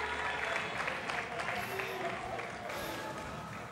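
A crowd at a Street Fighter exhibition match in Kuwait cheers and claps, a dense wash of applause and voices at moderate distance, with commentary talking over it.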